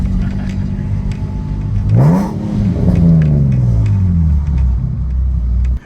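A Nissan 370Z Nismo's modified exhaust revs up sharply with a rising roar, then falls back through a lower, rumbling drone that fades out.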